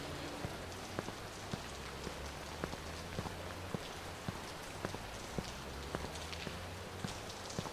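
Steady rain falls through a Chicago night in the game Watch Dogs, a soft constant wash broken by frequent sharp drip and tap hits like drops striking hard surfaces nearby.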